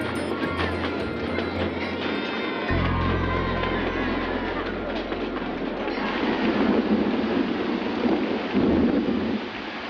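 Steady, dense rain pours down on crowds at the 1924 British Empire Exhibition with a low rumbling underneath, a continuous wash of noise that swells slightly louder toward the end.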